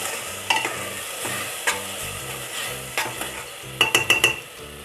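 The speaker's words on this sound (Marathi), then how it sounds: "आता आपण ही स्वच्छ धुतलेली डाळ यात टाकून घेणार आहोत। मिक्स करून घेऊ डाळी।" Washed mung dal is stirred into a hot pan for aamti, a soft sizzle under repeated spatula scrapes and clacks, with a quick burst of four rhythmic metallic knocks toward the end.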